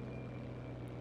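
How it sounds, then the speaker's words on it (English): An enemy plane drones past in Battlefield V, a steady loud propeller engine hum with a constant low tone for a brief moment. "I'm getting chased by an enemy plane."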